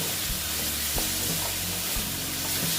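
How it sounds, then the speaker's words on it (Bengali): Grated tomato sautéing in a pan for a mung bean kalia, a steady sizzle with a few clinks and scrapes of stirring, close and alone without talk. "দিয়ে এটাকে আমি ভালো মতন কষিয়ে নেব"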